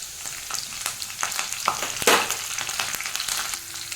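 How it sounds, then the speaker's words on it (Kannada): Green chillies and curry leaves frying in a pan of oil, with a steady broad sizzle, scattered pops and crackles, and one louder burst of spitting midway, close and alone without talk. "ಇದನ್ನು ಇವಾಗ ಸ್ವಲ್ಪ ಫ್ರೈ ಆಗಲಿ ಇವಾಗ ಸ್ವಲ್ಪ ಕರಿಬೇವನ್ನು ಹಾಕೋತಾ ಇದ್ದೀನಿ"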